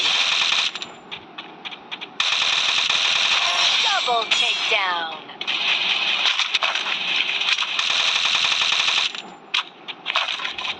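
Rapid, sustained bursts of automatic gunfire from a game, loud and continuous with brief pauses, plus a short electronic sweep in the middle.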